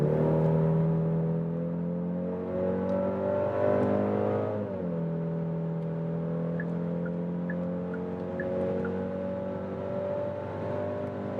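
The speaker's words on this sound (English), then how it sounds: "And from like 90 kilometers an hour when we're already at speed, let's accelerate it out." A luxury SUV in sport mode accelerating hard from about 90 km/h, its engine droning loudly and steadily with a rising pitch, briefly dipping at a gear change before climbing again, heard from inside the cabin.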